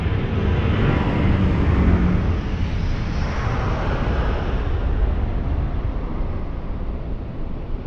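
An Azul airliner rumbles as it moves on the ground at Lisbon Airport, a loud, steady broadband roar that holds for several seconds and eases slightly toward the end.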